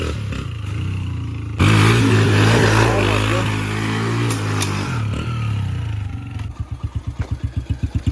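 A dirt bike with an oversized rear sprocket roars at full throttle in fifth gear, loud and close, the engine note holding steady before dropping off into a rapid, chugging idle pulse.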